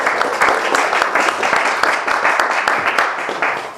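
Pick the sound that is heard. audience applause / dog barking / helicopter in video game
audience applause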